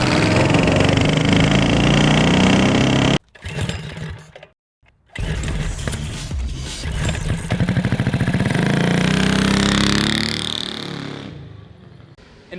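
A three-engine 45 hp mini bike fitted with built Honda clone engines roars loudly, cuts out for a moment, then revs back up in a rising, buzzing drone before dropping off near the end.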